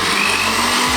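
A kitchen blender whirs steadily as it mixes McDonald's food. It makes a brief, loud, continuous motor drone with no pauses or voices.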